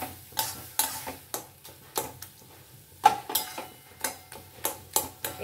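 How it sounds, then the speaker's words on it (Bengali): Stuffed pointed gourd masala sautéing in a pan for patol dorma, a faint low sizzle broken by regular sharp spatula scrapes and taps roughly every half second, no voices. "এটা আমি আরো 5 মিনিট ধরে এইভাবে কষিয়ে নেব"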